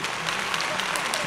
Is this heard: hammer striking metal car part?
no